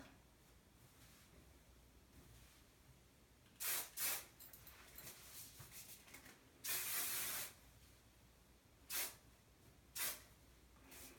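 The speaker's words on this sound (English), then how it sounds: "I'll kind of spray this." Several short hissing bursts of aerosol hairspray, with one longer spray in the middle and quiet gaps between.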